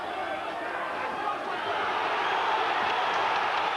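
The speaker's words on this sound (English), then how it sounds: "Just listen to the crowd here every time they perceive Rock to be getting on top." The crowd at a boxing match roars in a broad, steady wash of cheering throughout. It swells slightly partway through, and a commentator talks over it.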